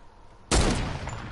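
A single sharp sniper shot in a video game cracks out loud and close, then rings briefly into a fading tail.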